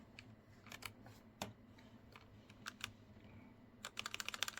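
Keys clatter on a computer keyboard as a partition name is typed, scattered individual clicks giving way to a quick burst of rapid keystrokes at the end, close and fairly quiet.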